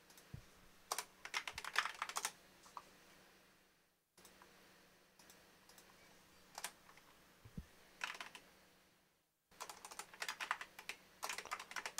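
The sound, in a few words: typing on a computer keyboard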